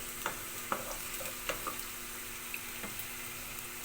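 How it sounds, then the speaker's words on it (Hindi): Potatoes fry lightly in a pan with a low, steady sizzle, broken by a few soft clicks and stirring taps, close by and without speech. "बस ये हल्की हल्की फ्राई हो जाए"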